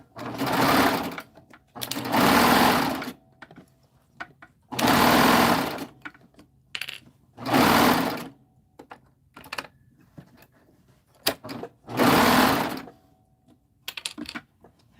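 A sewing machine stitches fabric in several bursts of rapid whirring, each lasting one to two seconds, separated by quiet pauses with small clicks and handling noises, close and loud.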